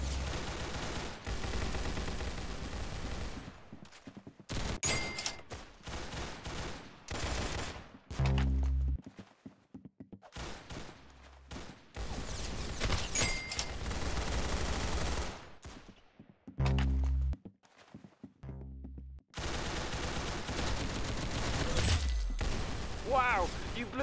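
Roblox Arsenal gunfire in loud, rapid bursts and sustained volleys, separated by brief silent gaps, close and dominant throughout.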